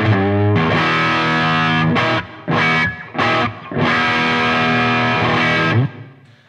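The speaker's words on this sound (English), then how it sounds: "the sound of the LX2 had a little bit more air, a little more sparkle, and sounded a little warmer on the bottom end" Electric guitar played through a Fryette LXII amplifier, heard as loud sustained distorted chords in several bursts separated by brief gaps, with a final long ringing chord and no voices.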